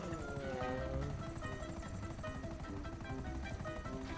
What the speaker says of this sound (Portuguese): Aí, ó, guerra de helicóptero,